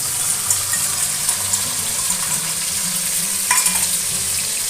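Garlic, onion and chili masala sizzles steadily in a pan for a fish curry, with intermittent scraping stirs and a brief clatter of utensil against the pan near the end.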